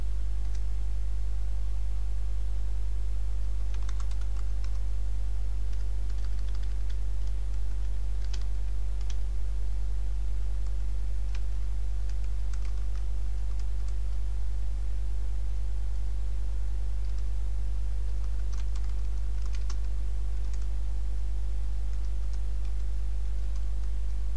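Someone typing text into PowerPoint table cells on a computer keyboard, producing scattered light clicks in short bursts over a loud steady electrical hum, with long gaps between bursts and no voices.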